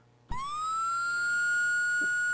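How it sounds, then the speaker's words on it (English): An ambulance siren sound effect starts abruptly and rises into a loud, sustained electronic wail heard on its own. "We're calling in the ambulance here."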